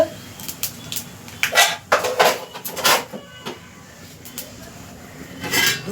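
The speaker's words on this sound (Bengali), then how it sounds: "এটা নাড়িয়ে নেবো ভালো করে" A spoon stirs Katoa stalk chorchori spiced with a generous amount of panch phoron in a pan, giving scattered scraping clinks and knocks in irregular bursts, close and moderately loud, with no talking.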